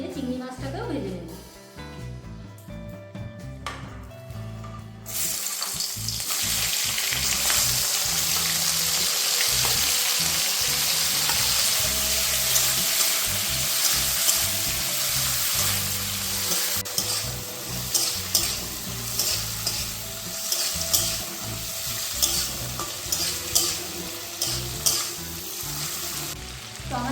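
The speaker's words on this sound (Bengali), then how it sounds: "আমরা কিন্তু এই একই তেলে আরেকটু তেল দিয়ে চিংড়ি মাছটাকেও ভেজে নেব।" Prawns frying in oil, shallow-fried for a potol chingri dish, give a loud, dense sizzle that surges in after a few seconds of quieter kitchen sound with some talk, then crackles steadily and close by.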